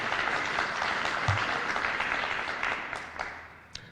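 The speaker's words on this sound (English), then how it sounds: "That's worth clapping for." An audience at a city's state of the city address bursts into applause, a dense crackle of clapping hands that holds steady before tapering off near the end.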